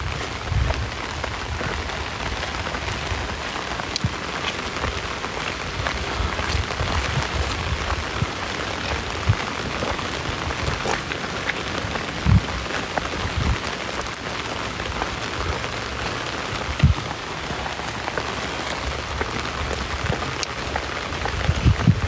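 Steady, dense rainfall lasting the whole stretch, loud and close, with occasional sharper drips and knocks standing out from the constant hiss; no voices.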